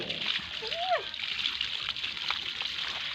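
Water splashing and sloshing as pet pigs are bathed during Songkran festivities, with brief splashes and steady background noise while a child and an adult talk nearby.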